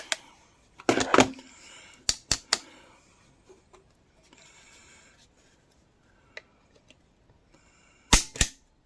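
Dry-fire trigger pulls on a Girsan Regard MC pistol give sharp, close mechanical clicks, some in quick clusters, separated by quiet pauses.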